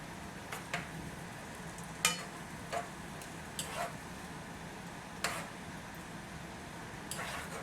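Vegetables and meat stir-fried in a pan for a simple stir fry, with a soft steady sizzle under scattered scrapes and taps of a utensil moving the food around.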